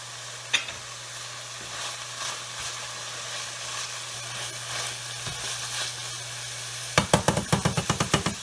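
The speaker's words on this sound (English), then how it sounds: "I'm just going to take it like this and kind of just move it around in the pan" Meat sizzling in a pan under a soft constant hum, shifted around with tongs to drain the grease, a quiet crackle with occasional scrapes, then a rapid series of sharp clattering knocks at the end.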